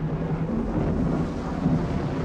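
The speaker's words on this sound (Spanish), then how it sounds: "La tarde palidecía al estruendo del rayo y la lluvia arreciaba casi al caer de la noche." Rumbling thunder over heavy, steady rain as an evening storm builds, a dense low continuous roar with no voices.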